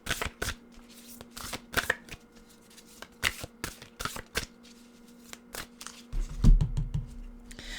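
An oracle card deck shuffled by hand, a close series of sharp card slaps and riffles in an uneven rhythm, with a soft low thump near the end and no talking.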